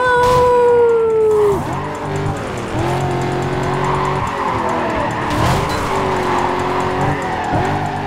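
Car drifting in the video game NFS Carbon, with loud engine howl and sustained tyre squeal through repeated slides, the revs rising and falling across several skids with no talking.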